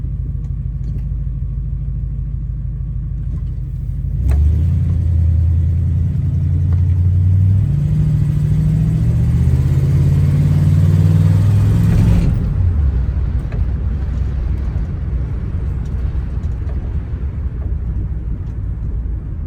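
Old Catalina car engine running while cruising on a cold day, a steady low rumble that swells louder and heavier for several seconds as it accelerates, then settles back to a smooth drone.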